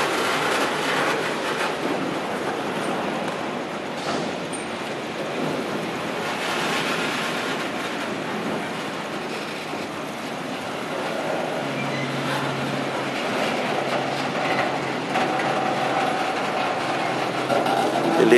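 A freight train led by an SD40-3 locomotive rolls past carrying heavy billets, a loud steady broadband rumble and rattle that continues unbroken for the full stretch without any voices.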